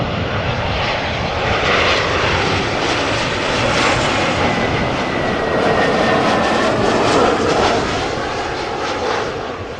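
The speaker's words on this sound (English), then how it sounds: "We are going to see another Embraer 190 behind it," A KLM Embraer 190 jet airliner arrives at Amsterdam Schiphol, its broad engine roar steady and fairly loud as it passes, rising slightly midway and easing toward the end, with no voices.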